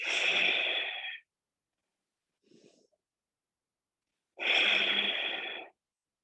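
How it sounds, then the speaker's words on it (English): Slow, energizing Kapalabhati breathing through the nose: two loud, close, forceful breath bursts, each lasting about a second, separated by a long pause with one faint, short breath in between. "just 10 slow, heating, energizing rounds of Kapalabhati breath"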